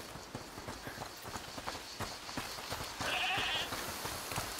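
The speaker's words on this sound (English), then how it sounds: "is that the goat he talked about?" A goat bleats once, mid-pitched and fairly clear, over a quiet background of soft hoof clops and faint ambient noise, in the video game A Plague Tale: Requiem.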